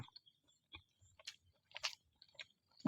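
Someone chews food close to the mic in quiet surroundings, giving several soft, moist crunching bites spaced irregularly, with brief pauses between them and no talk.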